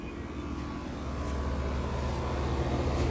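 A Trane heat pump with a faulty TXV runs steadily outdoors, a constant low broadband hum and whir with no pauses or voices.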